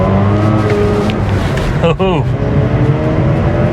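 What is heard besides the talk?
Mazda RX8 engine revving toward 7,000 RPM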